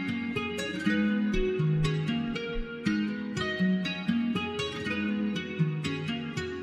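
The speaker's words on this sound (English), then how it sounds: "And the preset we used is called Dreamy Clean Picking." A clean guitar plays a melody through a Guitar Rig Dreamy Clean Picking preset at a 50% mix. Plucked notes ring out in a steady, rhythmic pattern over a warm, chorus-like low layer for about seven seconds, with no voices.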